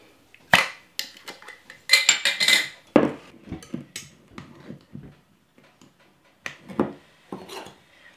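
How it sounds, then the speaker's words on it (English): Home-rendered lard being scooped into a one-cup measure in a kitchen, heard as a series of close clinks and scrapes of a utensil against the cup, with irregular knocks and quiet pauses between them. "now we are going to measure out 1 cup of lard."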